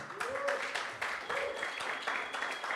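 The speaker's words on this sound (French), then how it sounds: "Est-ce qu'on peut applaudir Evan" A church audience applauds for a young athlete during a Sunday service, a fairly soft, steady clapping with a few brief vocal sounds over the top.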